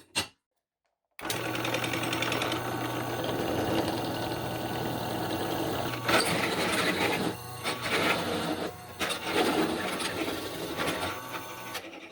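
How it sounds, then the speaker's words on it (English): After a brief knock and a second of silence, a power drill whirs continuously, grinding and rasping as it bores through metal for a bike rack, with slight changes in pitch and load. "Now to see if I can use it as a guide to drill through to the other side"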